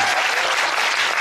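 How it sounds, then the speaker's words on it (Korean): Dense audience applause at a theatre curtain call for the musical, steady and loud throughout with no talk over it. "큰 박수 한번 주세요."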